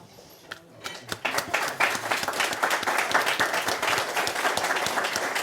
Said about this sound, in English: Please stand up, all of you, and give our speakers a grand applause